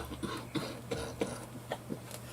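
Several rough coughs in irregular succession, close and fairly loud, with a steady low hum running underneath and no talking.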